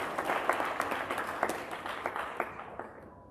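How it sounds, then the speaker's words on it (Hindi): An audience at a book launch claps to welcome a guest, producing a burst of lively, scattered applause that gradually thins and fades out over a few seconds. "चलिए ताली स्वागत करते हैं।"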